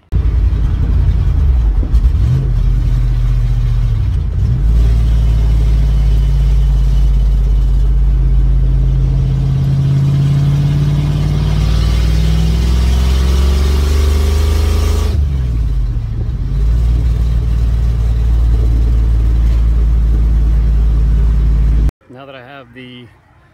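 A 5.0 Ford Ranger V8 runs steadily and loudly at close range, a deep continuous rumble with a brief rise and settle in revs, cutting off abruptly near the end.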